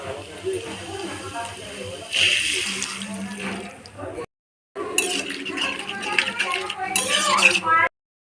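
Water is poured into a pan of lightly fried mustard paste for a potato and okra curry, giving two bursts of splashing, gurgling hiss with some metallic clinks, while a person talks nearby.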